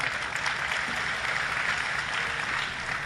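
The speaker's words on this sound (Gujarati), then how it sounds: "આ ભટ્ટ સાઉન્ડ ને તાળીઓના ગગડાટથી બતાવો" An audience at a Gujarati comedy performance breaking into steady, dense applause, many hands clapping together at an even level throughout.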